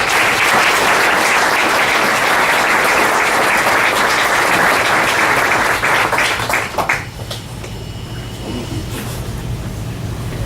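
Loud, dense audience applause at a luncheon carries on steadily for about seven seconds, then fades abruptly into a quieter room tone with faint low hum.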